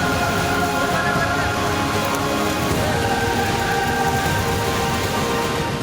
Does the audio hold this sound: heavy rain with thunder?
yes